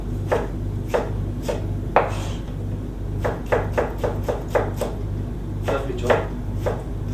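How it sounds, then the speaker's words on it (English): A knife roughly chops fresh tomatoes on a board with irregular sharp taps, some single and some in quick clusters, close and fairly loud over a steady low kitchen hum, with no talking. "Take some fresh tomato, roughly chop."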